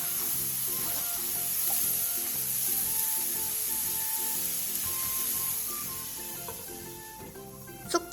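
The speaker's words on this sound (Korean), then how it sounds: "기름을 두르지 않은 팬에 숙주 2줌을 넣고 뚜껑을 닫아 약불에서 5분 정도" Two handfuls of bean sprouts steam over low heat in an oil-free pan under a closed lid, making a soft steady hiss with faint background music and a small knock at the end.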